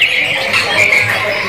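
Canaries in a busy bird-market kiosk give off a steady wash of high chirps and twitters, close and fairly loud, with a faint low murmur of the market underneath.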